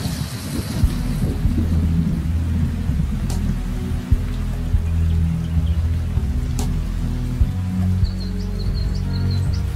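Steady heavy rain pours down while low thunder rumbles continuously beneath it, with a few faint bird calls in the distance.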